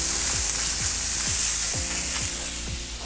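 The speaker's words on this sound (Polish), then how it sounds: "Zresztą jak się kiełbasy smaży, każdy wie." Sausages for choripan sizzle and fry steadily on a hot grill, a dense continuous crackle with occasional sharper pops, close and fairly loud with no talking.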